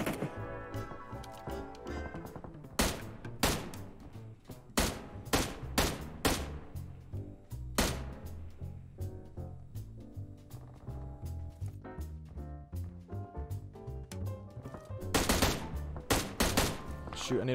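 Repeated bursts of gunfire from the PUBG Mobile battle royale game crack out in sharp, close volleys, some single shots and some rapid strings, over a busy backdrop of game sound effects.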